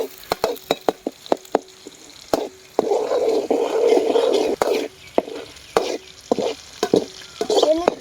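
Dried anchovies (nethili karuvadu) being sautéed in a pan, with repeated clacking strokes of a spatula against the pan over a soft sizzle, close and moderately loud.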